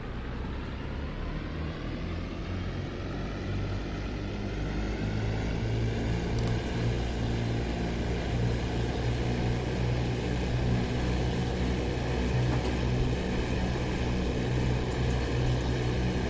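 A Focke-Wulf FW 190 D-9 piston engine in the DCS flight simulator runs up with brakes applied, a loud continuous propeller drone whose pitch climbs steadily as throttle increases, with no talking.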